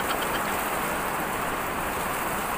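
Steady rain pouring down over an open public market in Alicia, Bohol, a dense, even hiss of falling water that fills the whole stretch without break.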